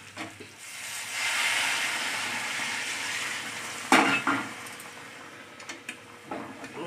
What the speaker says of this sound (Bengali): দেখেন গরম জল দিচ্ছি।